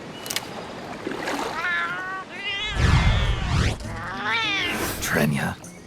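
A talking cat in the video game Metal Gear Solid: Peace Walker lets out a run of drawn-out, wavering meows and yowls, loud and close, with a voice-like quality and a low rumble beneath.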